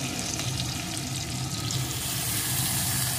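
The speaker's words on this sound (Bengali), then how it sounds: "বেগুনটাও একটু ভেজে নেব।" Cut eggplant pieces fry in a pan with potatoes for a thin fish curry, giving a steady, close sizzle that holds at an even level throughout with no talking.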